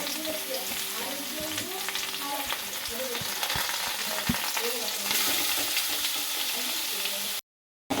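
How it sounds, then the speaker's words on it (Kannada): Mustard seeds, onion, tomato and green chilli frying together in a pan, a steady close sizzle with scattered pops and crackles throughout, cutting off abruptly near the end. "ಸಾಸಿವೆ ಚಟಪಟ ಅಂತ ಹಾಕ್ತಾ ಇದೆ ಈರುಳ್ಳಿ ಟೊಮೆಟೊ ಹಸಿಮೆಣಸು ಎಲ್ಲ ಒಟ್ಟಿಗೆ"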